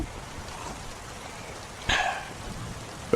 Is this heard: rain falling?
yes